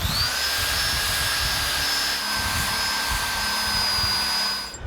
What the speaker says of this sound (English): I'm going to go ahead and drill these holes and install the hardware.